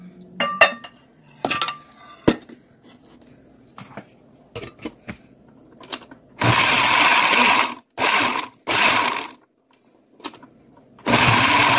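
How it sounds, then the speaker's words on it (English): A kitchen blender purees cooked butternut squash and vegetables for soup, running in several loud whirring bursts of varying length, with clinks and clatter of the jug and utensils between pulses. "now I will put it in the blender and blend it."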